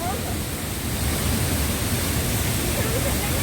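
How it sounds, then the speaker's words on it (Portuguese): A waterfall on the Antas river roars as a steady, dense broadband rush throughout, loud and continuous, with no distinct voices standing out. "Engraçado que tem uma cachoeira na frente da outra."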